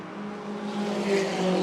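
A turbocharged Mazda 3 race car comes down the straight, its engine a steady, moderately distant drone that swells slightly as it nears.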